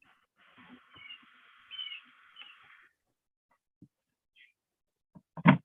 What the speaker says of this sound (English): I can hear the birds down here in Florida.